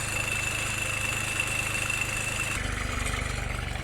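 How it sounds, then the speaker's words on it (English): A John Deere turbo diesel engine fitted in a motorcycle idles steadily with a continuous low rumble and fine rhythmic knock, close and loud throughout, no talk over it. "That's turbo diesel. It's smoother than the engine that came out of this."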